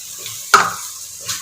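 A spoon stirs curd into egg biryani masala in a pan, giving one sharp scrape near the middle over a soft, steady sizzle, with a lighter scrape near the end.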